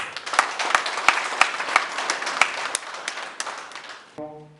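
An audience at a youth training event applauds the director with dense, sustained clapping for about four seconds. The clapping is fairly loud, and a short musical tone follows it.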